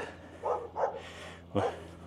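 A dog barks angrily near a mountain bike trail in Vacaville, California, three short gruff barks spaced about half a second to a second apart, moderately close and fairly quiet.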